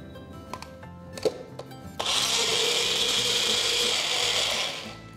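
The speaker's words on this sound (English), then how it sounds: "I'm going to grind it into a fine paste." An electric mixer grinder whirs into a loud, steady high-pitched roar as it grinds roughly chopped onion into a fine paste, preceded by a few clicks and knocks as the jar is set in place.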